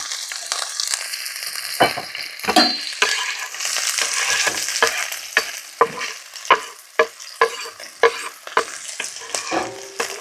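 Green chilies and onions dropped into hot oil to fry, a dense crackling sizzle near the mic, punctuated by repeated sharp spatula knocks and scrapes against the pan in an uneven rhythm.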